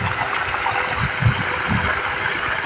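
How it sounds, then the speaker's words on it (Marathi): An Asian-brand borewell water pump motor of 7.5 to 10 HP runs continuously at a steady, rumbling drone that stays level throughout, with no talk over it. "मोटर चालू झाली आहे."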